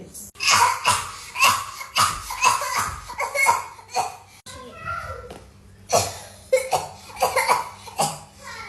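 A woman coughs several times in a comic household skit about a mother's home remedies, with short harsh bursts between bits of spoken dialogue and some laughter.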